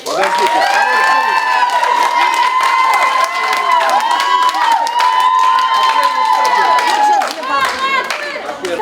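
Audience clapping at a greeting contest performance in a Kyrgyz women's prison, rapid hand claps running steadily underneath a loud sustained singing voice.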